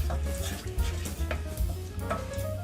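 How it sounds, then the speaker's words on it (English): Maggi Soup It Up vegetable mix being stirred in a pot, a close, continuous scraping and swishing of a spoon in a quick, even rhythm with faint bubbling and clinks underneath. "Then I'm going to add the Maggi Soup It Up vegetable mix. I'm going to stir."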